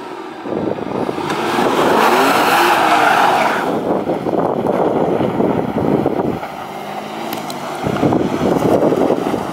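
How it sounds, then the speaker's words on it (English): A car drifting, its engine roaring hard and its tires squealing, loud and close and running steadily throughout with wind buffeting the microphone. "let's do some drifting!"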